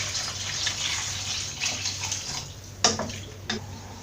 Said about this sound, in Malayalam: ഇനി ഇതിലേക്ക് എടുത്തു വെച്ചിരിക്കുന്ന 4 ഗ്ലാസ് വെള്ളം ഒഴിച്ചു കൊടുക്കാം.